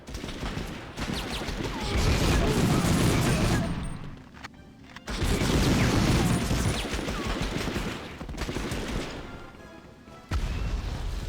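Gunfire in the PS1 shooter Medal of Honor rattles in loud, dense volleys, with two long bursts of rapid shots separated by short lulls and a final burst at the end.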